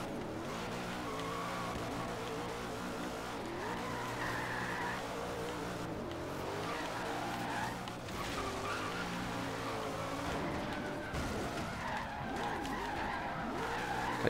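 Tires skid and squeal through a handbrake drift of a 500-horsepower drift car in a racing video game, a sustained loud engine roar with screeching tire noise running continuously throughout.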